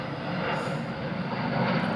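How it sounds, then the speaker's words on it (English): An airplane passes overhead with a steady, broad engine roar that holds at an even level and fills the whole short stretch, with no voices over it. "a plane is passing by"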